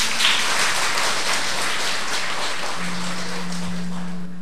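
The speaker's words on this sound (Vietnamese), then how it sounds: "Hay quá, cho một tràng pháo tay." An audience at a Buddhist nun's dharma talk bursts into applause, a dense wash of clapping that is loud at first, slowly thins, then cuts off, with a low steady hum beneath it near the end.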